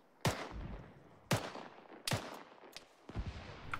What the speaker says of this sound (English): We're set, providing evasive fire.